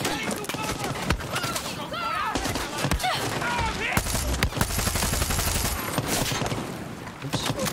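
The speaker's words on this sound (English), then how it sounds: "Gunshot." Rapid bursts of Far Cry 6 gunfire crack repeatedly, with automatic volleys and someone talking underneath.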